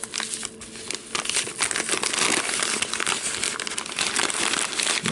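A paper bag treat pouch is folded by hand, producing continuous close crinkling and crumpling of paper for several seconds.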